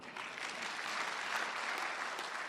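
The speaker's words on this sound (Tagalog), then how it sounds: "Ay, na pumalakpak tao rito." Soft, steady applause from a congregation in a church during a Tagalog sermon, sounding distant and low in level as an even patter with no one speaking.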